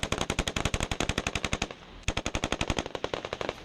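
An M240 machine gun fires sustained bursts in Afghanistan combat, rapid evenly spaced loud reports with a brief pause before firing resumes.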